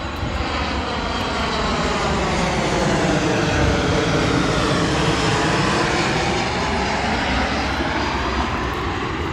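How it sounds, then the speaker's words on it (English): Jet aircraft fly overhead above a residential area in Etobicoke, giving a loud, continuous engine roar that swells and slowly shifts in pitch as it passes, with no voices. "all the jet engines up above."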